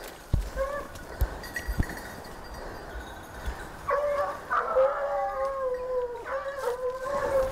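Hunting hounds bay on scent in a sustained, overlapping chorus from mid-distance, long drawn-out cries rising over scattered thumps and rustling in the open air during a hunt.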